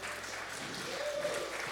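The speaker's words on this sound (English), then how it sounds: "Let's give her a round of applause." Audience applause at a live outdoor concert in a park at Onward Ranch, a steady wash of clapping over about two seconds with no clear talk.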